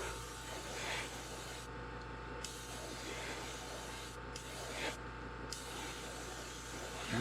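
An airbrush sprays a base coat of paint down the top of a fishing lure, giving a steady, faint hiss with a few short pauses between passes, with nobody talking.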